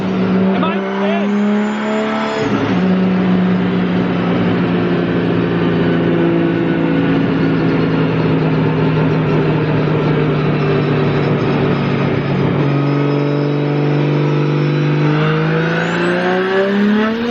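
Loud, close engine of a 900 hp Nissan S15 running hard on a dyno, a sustained high-rpm drone with a pitch drop near the start and another shift later as it winds back up.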